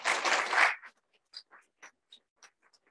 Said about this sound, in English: So please welcome them with a warm round of applause.